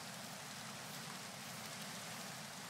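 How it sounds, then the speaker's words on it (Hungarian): Steady rainfall from the Minecraft video game, a dense even hiss of falling rain running the whole time with no voices. "Vagy csak a rendes eső lesz."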